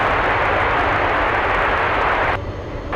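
A Boeing 747 Dreamlifter roars loudly and steadily on its takeoff run at Anchorage airport, a broad continuous jet engine rumble with no voices.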